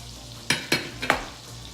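Onions dropped into a hot pan with sausage for sausage, peppers and onions, giving three or four sharp sizzling bursts as they hit the fat and get stirred, close and alone with no voices.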